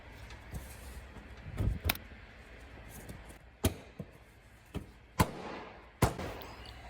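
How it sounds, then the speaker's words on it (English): A palm smacks the bumper cover of a 2016–2020 Honda Civic to drive it back into place. The result is a handful of sharp, close plastic thumps spaced irregularly, each one standing alone over quiet background. "take your palm of your hand and give your bumper a pretty good smack to drive it back"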